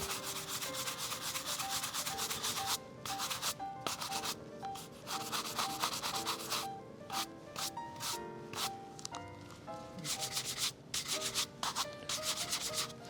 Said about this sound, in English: using my horsehair buffing brush, I'm going to make sure that I buff horizontally